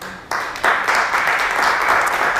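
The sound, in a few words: audience applauding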